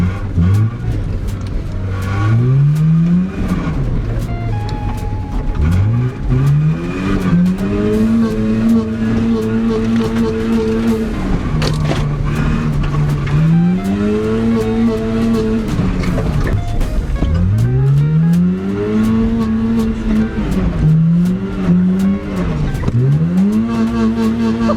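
Engine lubricated with bacon grease in place of oil, revving hard and repeatedly on a dirt trail track, pitch climbing and falling through loud close-up rev cycles with occasional tire scrub.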